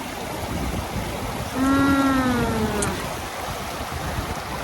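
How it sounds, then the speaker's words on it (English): A river flows on a 35-degree day beside an icy log along the Pacific Crest Trail. It makes a steady, broad rushing wash that fills the whole clip, with a brief tonal whine rising and falling in the middle. "we have to cross this river"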